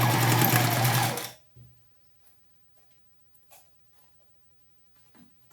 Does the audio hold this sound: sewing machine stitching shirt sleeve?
yes